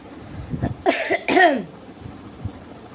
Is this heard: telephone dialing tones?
no